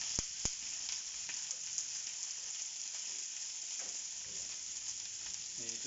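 Two chicken breasts fry in a pan over very high heat, giving a steady, dense sizzle that holds throughout with a few sharp pops near the start and no talking.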